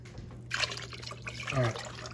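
Water from a can splashes and gurgles into a pot of oxtail stew, a brief faint pour with sloshing bursts over a low background hum.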